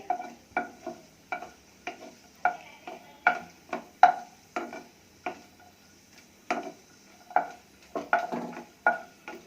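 Cashews frying in a pan for carrot halwa, with a spoon scraping and tapping against the metal in a steady rhythm of about two strokes a second over a light sizzle, close and clear.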